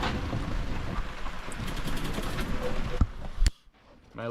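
Steady rain hisses continuously, with a few sharp knocks near the end before it briefly drops away.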